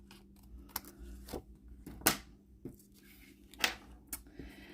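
Paper cardstock being trimmed for a rainbow-stamped birthday card, heard as a handful of crisp cutting and sliding strokes, close and quiet with light handling noises in between.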